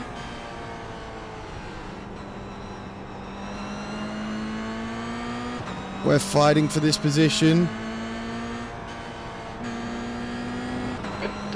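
Race car engines drone steadily in iRacing, sim racing, a sustained near hum that briefly rises into a busier, choppier burst of revving midway, with a voice talking over it.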